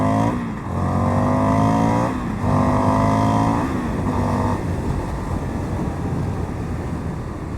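An Indian FTR 1200 motorcycle engine revs loudly in a few rising bursts up close, then rides off, with steady wind noise rushing over the microphone afterward.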